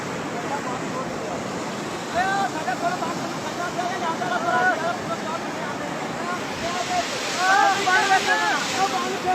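Loud, steady roar of flood water rushing through a broken dam fills the whole clip, with voices talking intermittently over the torrent.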